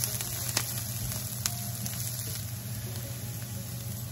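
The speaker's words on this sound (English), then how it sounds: "The longer you saute them, the better they're gonna taste." Onions, mushrooms and corn sautéing in a pan give off a soft, steady sizzle with a few light pops, fairly quiet and with no talking.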